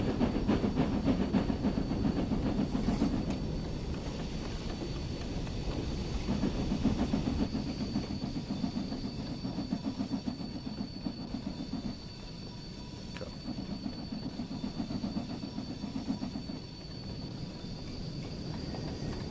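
A Fowler 4F steam locomotive hauls freight on the West Somerset Railway in Train Sim World, with steady rhythmic chuffing, a hissing steam layer and rail rumble throughout, easing slightly partway through.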